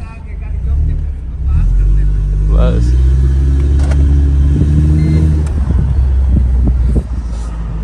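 A Mercedes SLK 200 being driven in Pakistan, its engine giving a steady, loud low rumble that swells as it pulls away, heard from inside the car while people talk over it.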